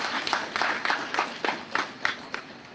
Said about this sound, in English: so give him a round of applause, too.